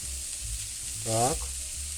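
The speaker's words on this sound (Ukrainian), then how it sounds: "Сковорідка шкварчить" Onion sizzles steadily in a hot pan of oil, a constant close frying hiss that swells briefly mid-way as a voice speaks over it.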